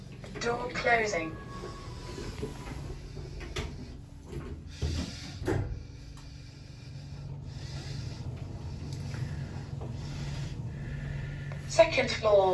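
Sliding doors of a modernised Kone Ecodisc passenger lift in a Dublin shopping centre close with a soft mechanical rumble and a couple of thuds over steady car hum, with a synthetic voice announcement at the start and end.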